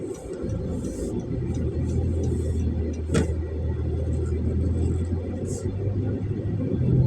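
A Grab Car Premium ride-hailing car drives along, its steady low engine and road rumble continuous and close, with light rattles and faint brief ticks from inside the cabin.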